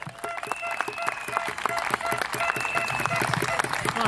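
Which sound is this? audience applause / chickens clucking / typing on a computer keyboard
audience applause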